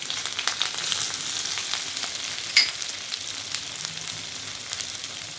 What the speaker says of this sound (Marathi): तर तेल तापलेलं आहे, त्यामध्ये घालायचं आहे लसूण,